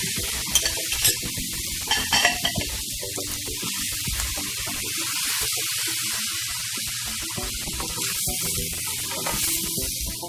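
Scallops and about two cups of chopped tomatoes sizzle loudly in a pan, a dense continuous hiss broken by stirring scrapes and clatter near the start, with no voices.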